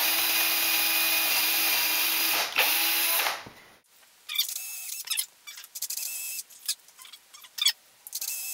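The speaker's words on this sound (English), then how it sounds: "I'm gonna be here drilling here for a few minutes" A power drill runs steadily into plywood shelves for a few seconds, then stops; short bursts of drilling and scraping follow in an irregular rhythm.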